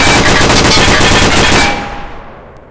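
Rapid automatic gunfire in a VR shooting game, a loud close burst of evenly spaced shots lasting about a second and a half before the echo fades away.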